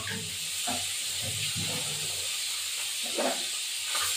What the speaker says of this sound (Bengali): শিঙি মাছ খুব ফাটে, শিঙি মাছ, ট্যাংরা মাছ খুব ফাটে।